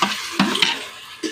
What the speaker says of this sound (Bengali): পেঁয়াজটা আমার ভাজা হয়ে গেছে, এবার দিয়ে দেব টমেটো।